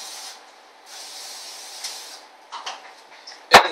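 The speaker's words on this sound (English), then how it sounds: "take your waffle maker, give it a nice coat with some spray." Cooking spray hisses briefly onto a waffle maker, a soft airy spray near the start and another around the middle, followed by faint handling clatter and a sharp click at the end.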